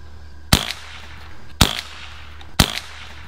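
Three air gun shots fired at a target, each a sharp crack followed by a brief ringing tail, spaced about a second apart, loud and close with no voices.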